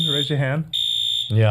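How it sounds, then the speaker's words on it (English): A studio fire alarm sounds as a loud, steady high electronic tone that drops out briefly and then returns, with voices talking over it. "That's our fire alarm."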